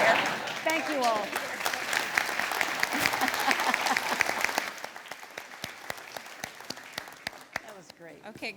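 An audience applauds honorees at a CEO celebration: a full round of clapping and cheering voices that thins out into scattered individual claps near the end.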